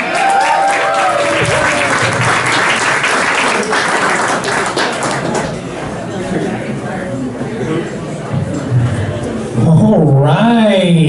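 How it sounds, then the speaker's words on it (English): A comedy club crowd applauds a comedian with loud, thick clapping and scattered cheers and chatter for several seconds. The clapping then thins into room murmur, and a voice rises near the end. "Everybody, a big round of applause for Kris Bell."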